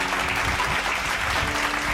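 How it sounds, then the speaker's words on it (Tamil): Dense, steady clapping from a congregation at a Tamil Sunday church service, a continuous loud wash of applause with no pauses. "கைத்தட்டுங்க ஒரு தடவை அவருக்கு."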